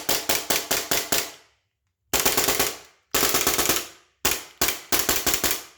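A gas airsoft Glock-lookalike pistol fires rapid bursts of sharp, snappy shots in quick rhythmic groups separated by short pauses, loud and close with no talking.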